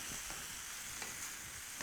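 Beef chunks browning in a pot for Guinness beer braised beef give a steady, close sizzle with faint scraping, and nobody speaks.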